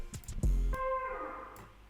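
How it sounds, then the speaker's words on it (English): A single one-shot brass sample sounds after a brief soft clatter, swelling into a sustained, slightly processed tone that slowly fades, quiet and alone. "The brass sounds like this"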